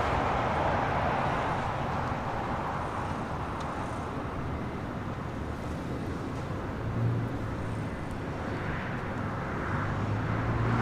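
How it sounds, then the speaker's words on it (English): A Japan Airlines Dreamliner takes off from the south side of LAX, a steady broadband roar of jet engines heard at a distance, fairly faint and continuous. "we do have that Japan Airlines Dreamliner number 3 for takeoff here on the south side, heading to Tokyo Haneda"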